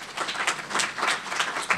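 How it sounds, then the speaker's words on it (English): A short burst of applause at a parastatal workshop, a crowd clapping in a fast, uneven patter that stays fairly loud for under two seconds. "let me say that we all should give ourselves a round of applause"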